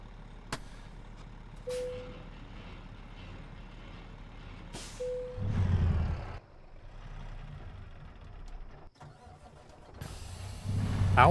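A semi truck in American Truck Simulator drops its trailer at a mountain visitor center with short beeps, sharp hisses of released air brakes, a clunk and a heavy blast of air, under the low idle of the engine.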